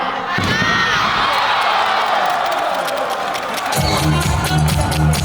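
Crowd at a Korea Electric Power Bigstorm volleyball game chanting and cheering a team call, loud and massed, with a rhythmic chant swelling near the end.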